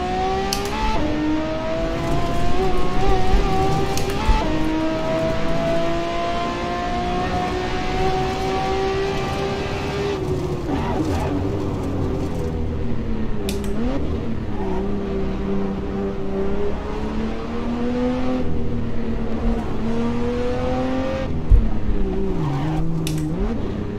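A Bugatti EB110 SuperSport mod in the Assetto Corsa racing game drives continuously, its engine holding a steady, loud drone with gentle pitch rises and dips and occasional brief tire noises throughout.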